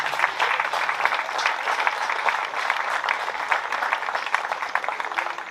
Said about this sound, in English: a big round of applause for the officials and the sport